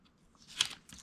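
Paper backing peeled off a scrap craft cutout, a short faint crinkling tear that peaks briefly, then a second small rustle, close and quiet with no talking.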